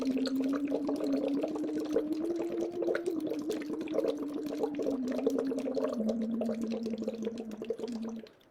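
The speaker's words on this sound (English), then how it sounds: "So you're going to blow the bubbles on pitch." Bubbles blown through a straw into a water bottle while a voice hums a steady pitch, forming a continuous bubbling tone that wavers slightly in height for about eight seconds, close and moderately loud, then stops abruptly.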